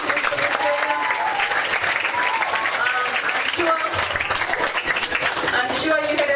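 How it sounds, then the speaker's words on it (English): An audience at a Fijian health program closing event applauds visiting guests from Australia, loud continuous clapping with some cheering voices mixed in throughout. "Can we give a round of applause to our visitors from Australia?"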